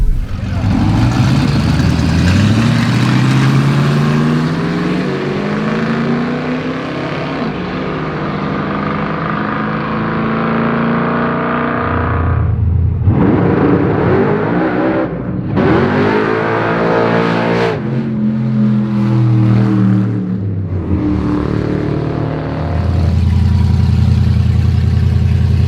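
Durango race car with a new engine launching hard, its loud engine roaring steadily then surging through rising revs and gear changes, with the tire spinning at the hit, sustained and close throughout.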